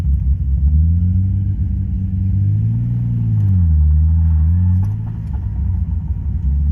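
A Toyota Supra MKV fitted with a TOMEI exhaust drives along, its engine giving a steady, loud, deep rumble that rises and falls in pitch as it works through the gears, heard up close with no talk.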